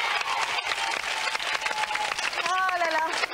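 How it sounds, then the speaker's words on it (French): A French children's TV studio audience from 1992 applauds the game show contestants, sustained clapping running throughout, overlapped by an excited presenter's voice. "on applaudit les candidats et les cadeaux"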